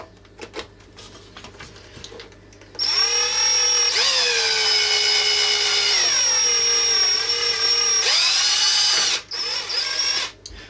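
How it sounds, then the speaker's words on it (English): A power drill bores a hole through a part of a CTC i3 A8 RepRap 3D printer kit, its motor whining steadily for several seconds with pitch dips under load, then stopping, with brief clicks before and after. "Let me just pop a drill bit through there."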